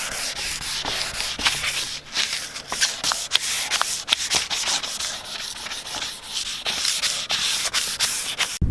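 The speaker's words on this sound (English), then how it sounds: "I'm going to run over both the front splitter and the side skirts with some 400 grit" Hand sanding with 400 grit sandpaper over a car body kit's front splitter and side skirts, a close, continuous rhythmic scratching of strokes with no talking.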